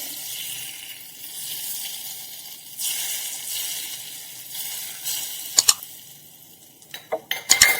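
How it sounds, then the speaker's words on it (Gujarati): Hot oil tempering with mustard seeds, white sesame and hing poured over khandvi, giving a hissing sizzle in bursts, followed by a few sharp clinks of utensils near the end. "હવે આપણે આ વઘારને બનાવેલી ખાંડવી ઉપર રેડીશું."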